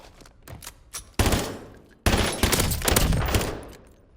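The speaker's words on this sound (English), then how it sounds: "I never actually tested this gun before." An MCW gun fires in a video game: two long, loud bursts of rapid automatic fire, the second starting right after the first, with scattered shots and clatter before them and no talking.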